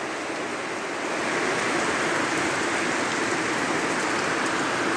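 Heavy rain pours down in a dense, unbroken roar that swells slightly after the first second and stays loud throughout.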